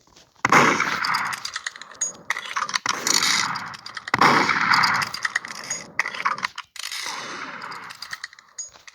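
Rapid bursts of video game gunfire with sharp metallic clanks and mechanical clatter, the shots coming in loud clusters separated by brief near-silent gaps.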